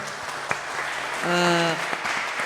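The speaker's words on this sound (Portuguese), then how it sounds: "uma salva de palmas para eles também, pelo trabalho" Audience applause for the event team at a music and poetry talk, steady clapping with a sung or hummed tone rising briefly over it midway.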